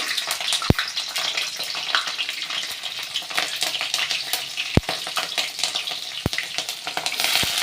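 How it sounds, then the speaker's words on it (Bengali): Chilies sizzle in hot oil in a wok for a Bengali bathua greens dish, a dense, steady frying hiss with bright spattering and a few sharp clicks of a utensil against the pan; no one speaks. "তো আগে কড়াতে লঙ্কাগুলো দিয়ে দেবো।"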